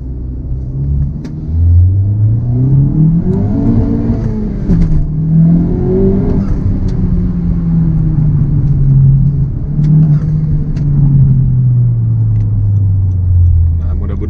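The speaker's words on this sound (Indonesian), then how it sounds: "Gue mau kasih denger nih suara knalpotnya ketika kita rev setelah kita ganti" A Honda Civic Type R FK8 with Stage 2 tune and aftermarket exhaust revs up and down repeatedly with a deep, throaty exhaust rumble, loud and close, with some talking mixed in.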